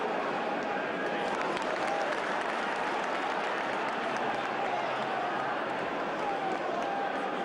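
A steady, dense roar from the football crowd at Hillsborough during Sheffield Wednesday against Charlton Athletic, with continuous cheering and clapping throughout and a commentator speaking over it.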